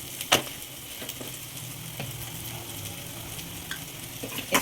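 Mirchi bajji stuffing with coriander powder is mashed and mixed in a bowl, giving a quiet continuous rustling texture with a few distinct spoon clicks and knocks, and no voices.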